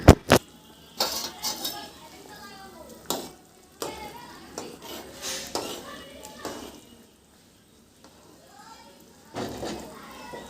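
A pot of boiling potatoes is covered with a lid and later uncovered to check, producing sharp metallic clanks and clinks in bursts, with a voice talking between them and a short silent gap.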